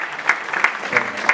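Audience applause at a university arts-and-sciences gathering in Lyon, a short burst of clapping with a few sharper claps rising above the steady patter, moderately loud and without talk.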